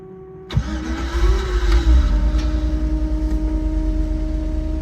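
LS-swapped Toyota FJ60 Land Cruiser engine cranks briefly and catches, rising to a loud, close idle with a steady rumble that settles after a short rev, preceded by a faint fuel pump whine.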